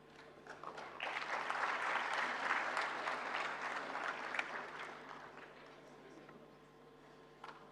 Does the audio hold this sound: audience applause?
yes